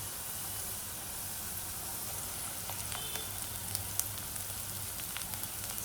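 Onion, garlic and chilli sautéing in a pan while a Bharangi wild-vegetable dish is cooked, a steady close sizzle with faint crackles and small pops, no voices.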